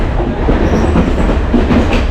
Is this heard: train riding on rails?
yes